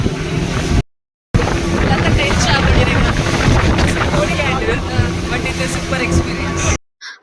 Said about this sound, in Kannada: ಇದು ಸ್ಪೀಡ್ ಬೋಟ್ ಆಗಿರೋದ್ರಿಂದ ಫಾಸ್ಟ್ ಹೋಗುತ್ತೆ.